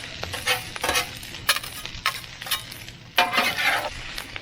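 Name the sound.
stirring egg in chicken fried rice in a pan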